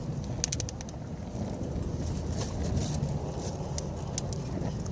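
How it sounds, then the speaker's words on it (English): Steady outdoor wind rumbles against the microphone at an allotment garden beside a burning firewood fire, a continuous low roar with faint crackling and light ticks above it, no talk. "I don't mind the wind blowing because it actually set more fire to my wood."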